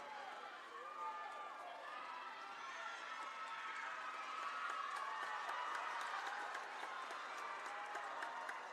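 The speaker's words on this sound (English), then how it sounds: "Everybody cheering on." Spectators cheering at a swimming championship race, a broad roar of crowd noise with clapping and shouts, heard somewhat distantly under an announcer's voice.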